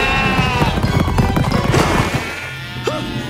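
Cartoon sheep from Dragons: Riders of Berk bleat amid a busy mix of clattering effects and music, with a clear bleat standing out near the end.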